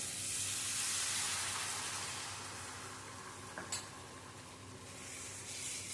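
Water hisses into sizzling fried masala in a pan, a broad steamy rush that fades gradually, with a faint stir and a small utensil clink partway through.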